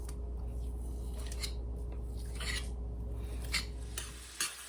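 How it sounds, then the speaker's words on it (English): Sausage being chopped up with a utensil and browned in a pan for sausage gravy, steady close sizzling with repeated scraping and tapping strokes, no talk. "keep chopping it up and cooking it until it's browned and cooked all the way through"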